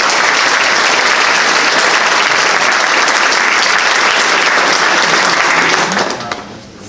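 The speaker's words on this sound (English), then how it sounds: "Let's give Riley a round of" A school board meeting audience gives a loud, full round of applause, many hands clapping steadily for several seconds before it trails off near the end, with no one talking over it.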